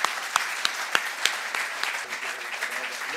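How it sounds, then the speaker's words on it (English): An audience applauds to greet Israeli Prime Minister Benjamin Netanyahu. Dense clapping fills the hall, with a few louder nearby claps standing out at a steady moderate level. "join me to greet with a big applause to our Prime Minister of Israel"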